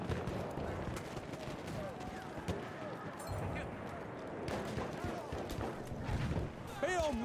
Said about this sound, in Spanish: Uy, me están dando tiros.